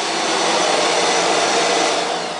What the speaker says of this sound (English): and my shop vac collects it